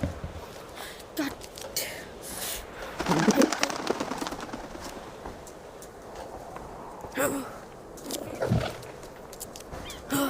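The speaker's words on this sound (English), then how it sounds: "Another pigeon?" A pigeon coos in a cat video game, soft repeated calls heard a few times over game noise and scattered bursts.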